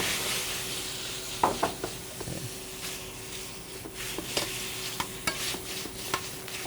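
Shrimp sizzling in a hot pan as Pernod anise liqueur goes in, a steady frying hiss with scattered sharp pops and the clink and scrape of stirring, close by with no talking.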